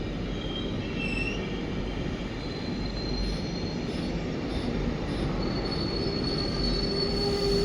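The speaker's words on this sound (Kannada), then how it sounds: "ಪ್ಲಾಟ್ಫಾರ್ಮ್ ನಂಬರ್ 3ಗೆ ಈಗ ಎಂಟ್ರ್ ಆಗ್ತಿದೆ." Siddaganga Express train with ICF coaches rolling into platform 3, a steady loud rumble of wheels with high squealing tones and faint clatter, with no talk.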